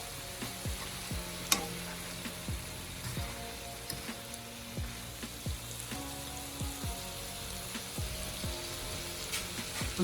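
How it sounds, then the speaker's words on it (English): Ackee and saltfish frying in a pot at home, a soft steady sizzle broken by repeated clinks and scrapes of stirring at an irregular rhythm, fairly quiet and with no talking. "Ackee and Saltfish just got added to the pot."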